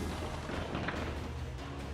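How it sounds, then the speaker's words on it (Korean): Cannon artillery fire in a wartime scene, heard as dense, rumbling booms and blasts that run together continuously, with no speech. "대포 쏴버리니까."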